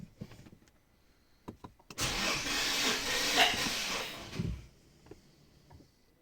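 Infiniti QX70 S 3.7 V6 engine cranking over on the starter during a cylinder compression test, a steady whirring hiss lasting about two and a half seconds after a few clicks, then cutting off.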